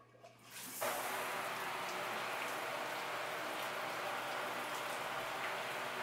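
A steady spray of water showers over a houseplant's leaves, starting abruptly and continuing as a dense, even hiss that stays close and fairly loud until the end.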